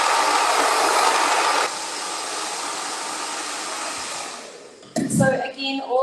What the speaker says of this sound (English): I just have to use the hair dryer, the condensation.